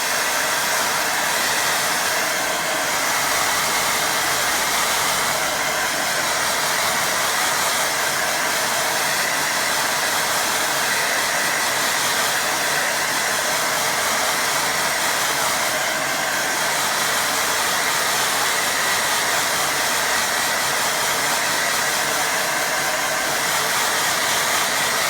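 A hair dryer runs steadily and loudly nonstop, drying a watercolour painting, a constant blowing roar with no pauses or voices.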